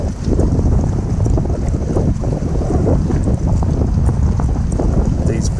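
Strong wind buffets the microphone on a lakeshore rock point during a morning of fishing with big waves, a loud continuous roar with gusty surges and no let-up.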